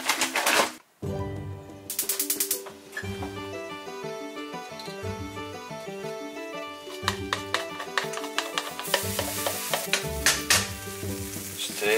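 High-protein, low-fat pancake batter with banana cooks in a pan, giving a steady close sizzle with scattered crackles and light scraping over soft background music.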